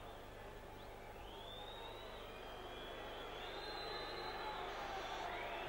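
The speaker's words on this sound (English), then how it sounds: "Booing all around the ground, which is somewhat unfair to Kevin Dick" Distant crowd noise spreading around a rugby league ground during a cup final, a broad sustained roar with faint rising whistles and jeers, heard as a continuous wash.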